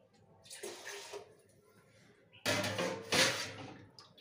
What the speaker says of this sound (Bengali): জলটা কম কম করে আসছে